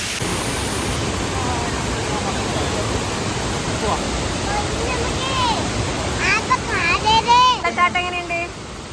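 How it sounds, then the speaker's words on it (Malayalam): A loud, constant roar of rushing water from Urulikund waterfall in Kannur, Kerala, in the rainy season, fills the clip, with a voice briefly speaking over it near the end. "വെള്ളച്ചാട്ടം എങ്ങനെയുണ്ട്"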